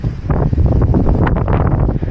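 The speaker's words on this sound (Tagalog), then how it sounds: "Grabe lakas ng hangin." Strong wind buffets the microphone in Hakone, a loud, continuous roar with gusty surges throughout and no voices.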